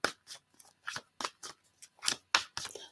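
Cards being shuffled by hand during a reading: a quiet series of short, crisp riffling snaps in an uneven rhythm, heard close up with no talking.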